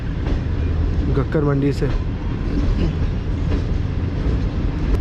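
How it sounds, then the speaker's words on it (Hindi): The Tezgam passenger train pulls out of Ghakhar Mandi after a stop, its low rolling rumble and wheel clatter steady throughout, with a brief tonal squeal partway through and someone talking over it. "और तकरीबन 8 से 10 मिनट रुकने के बाद ट्रेन हमारी दोबारा डिपार्ट कर रही है"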